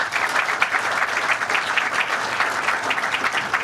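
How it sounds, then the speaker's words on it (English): Steady audience applause for the governor at an outdoor construction announcement event, dense continuous clapping filling the room at a moderate, even level throughout with no talk over it. "Another round of applause for our great governor."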